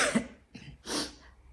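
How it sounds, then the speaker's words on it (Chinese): A few harsh, hoarse coughs from someone with a sore, overused throat, close to the microphone, in three short bursts separated by brief pauses. "再一说话就要咳嗽"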